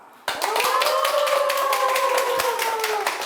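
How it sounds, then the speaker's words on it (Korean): An audience at a Korean history lecture claps in a steady, dense burst that starts abruptly and holds at an even level, with a sustained tonal sound running beneath the claps. "지금 박수 타이밍 아주 좋아요."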